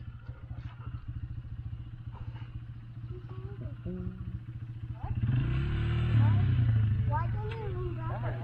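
Motorcycle engine near and steady under a man coaching a young rider, swelling louder midway as the bike begins to roll off at a motocamp ride.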